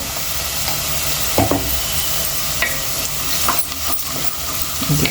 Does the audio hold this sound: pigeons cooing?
no